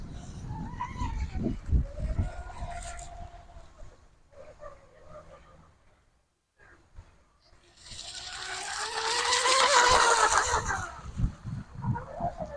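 J&R Marine H17 RC hydroplane boat motor whining over water, rising and fading between bursts of throttle with a loud high-pitched run near the end.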